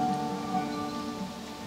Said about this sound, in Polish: Deszcz z liści.